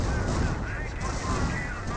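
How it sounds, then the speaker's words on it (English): A rocket artillery barrage in Company of Heroes, a World War II strategy game: a thick, continuous roar of launches and blasts, loud and unbroken throughout, with no separate impacts standing out. "here comes a Warframe barrage"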